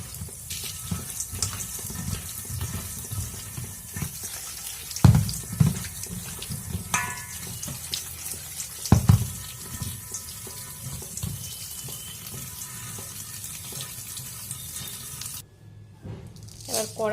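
Cut raw green mangoes rinsed under a running kitchen tap for a mango chutney, water pouring steadily into a sink with splashes and a couple of louder knocks, close by, a voice speaking faintly beneath.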